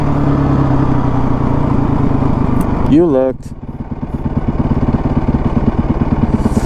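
A motorcycle engine idles and rumbles steadily up close, briefly revving near the middle, while a person speaks over it.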